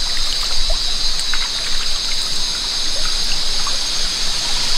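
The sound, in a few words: cold river water flowing from Gunung Jerai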